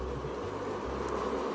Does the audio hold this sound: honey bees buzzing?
yes